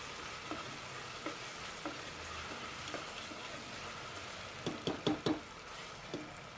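Ingredients for a country-chicken (naatu kodi) curry fry gently in a little oil, a soft continuous sizzle with scattered spoon taps and a short cluster of louder clinks against the pan.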